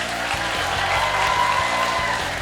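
A crowd at a 2019 LCK Summer esports match applauds steadily, a dense wash of clapping that holds at an even level throughout with faint music underneath.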